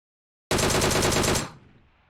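An automatic weapon in the video game PUBG Mobile fires a single rapid burst of about ten shots lasting roughly a second, loud and close, followed by a brief fading tail.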